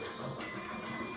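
A DIY 3D printer runs steadily with a whirring mechanical hum and no talking over it.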